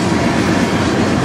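An intermodal freight train passes at night in Sarnia, Ontario, a loud, close, unbroken rumble and rattle of cars rolling by.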